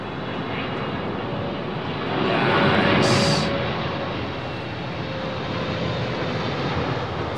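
A Boeing 737 airliner lands at London Heathrow Airport at sunset with a broad, continuous jet roar that swells midway and then eases into a steady rumble, heard from a distance with no talking.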